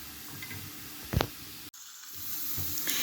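Prawns sizzling as they fry in a pan, a steady soft crackle with a brief louder burst partway through and a short drop-out before the hiss resumes.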